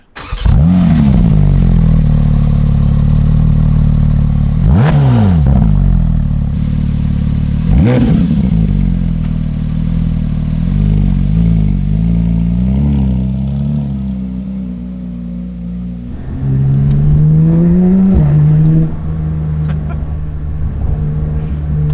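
A new Porsche 911 GT3 driven on a dry road, its engine loud and close throughout, with rising revs, sharp pitch drops at gear changes and a steady cruising drone in between.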